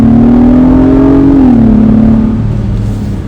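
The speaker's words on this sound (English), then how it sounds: "I've read a lot of stuff online about the exhaust is weak." Acura MDX Type S engine and exhaust revving, a loud steady drone that climbs in pitch, then eases back and settles into a lower hum, close up with no talking.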